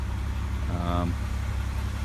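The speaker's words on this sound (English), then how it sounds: "Engine sounds like it's got a little tick to it, but that's all right." A 2004 Chevy Impala engine idles with a slight tick, a low, steady hum with a brief whine rising and fading in the middle.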